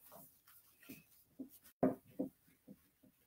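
A board being wiped clean with an eraser: a quiet series of short, scratchy swipes in an uneven rhythm, with one firmer stroke near the middle, heard up close and alone.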